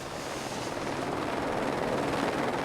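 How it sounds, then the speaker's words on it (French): Helicopter rotor noise, steady and fairly distant, from a machine airlifting a net load of drinks, meat and fish up to a mountain refuge in the Pyrenees, with a continuous broadband drone throughout. "L'hélicoptère réalise une deuxième rotation."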